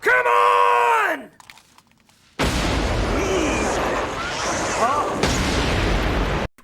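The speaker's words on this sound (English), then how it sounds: "like a marksman rifle, something like that." Marksman rifle gunfire in a movie scene, with sharp loud cracks and bursts over a noisy, rumbling background after a short quieter gap, preceded by a swooping tone.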